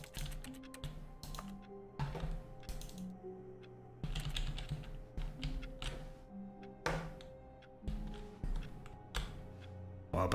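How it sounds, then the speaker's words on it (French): Keyboard typing sounds triggered by mouse clicks in The Stanley Parable Ultra Deluxe, coming in irregular bursts of clicky keystrokes over a steady low background hum and soft musical tones, with no talk. "Pourquoi ça fait un bruit de clavier quand je clique?"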